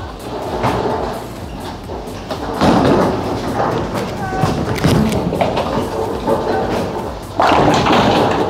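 A bowling ball strikes pins on a ten-pin lane: sharp clattering crashes sound at a few points, mixed with alley noise and a voice talking.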